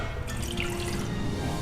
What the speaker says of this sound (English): First, we'll add in the warm water